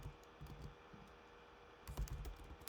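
Quiet typing on a computer keyboard while entering text for a Scratch game project. Soft key taps come in a loose, uneven run, with a small flurry at the end, heard close against a faint room hum.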